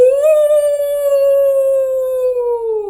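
A voice imitates a wolf's howl: one long, loud, sustained tone that rises slightly at the start and sags downward as it fades.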